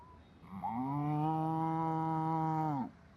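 A voice imitates a cow or buffalo with one long, steady, droning moo lasting about two seconds, close and clear against quiet surroundings.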